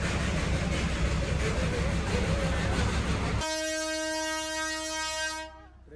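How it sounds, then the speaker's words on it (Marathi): Darjeeling Himalayan Railway toy train: a loud, rumbling, noisy stretch gives way to a long sustained horn blast, held steady for about two seconds before cutting off. "ट्रेनचा हॉर्न वाजला दुसरा"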